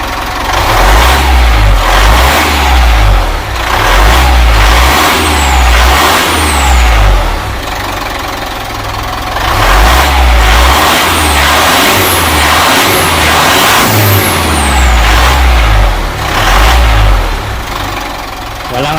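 A Mitsubishi Montero Sport engine revs repeatedly in loud surges and falls back toward idle, close by, right after a Greddy front-mount intercooler install, with faint voices underneath at times.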